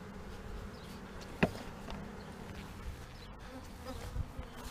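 Honey bees from a package colony buzz steadily inside a hive about a week after installation, a continuous close droning hum with a few individual bees passing near.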